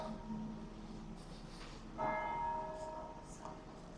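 A church bell in Sandwich, Kent strikes two o'clock, heard faint and distant through outdoor street ambience, its ringing tone swelling midway and fading out.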